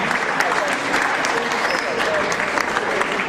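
Steady audience applause at an anthropology student congress fills the hall, dense and continuous with no pauses, fairly loud and even throughout.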